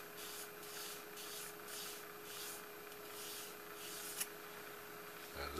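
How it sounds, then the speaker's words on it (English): Hand sanding a small part for a supercapacitor build, a soft rhythmic rubbing of strokes repeating close by and faint, ending with a sharp tap and a knock. "so I'm only going to sand an eighth of an inch or less"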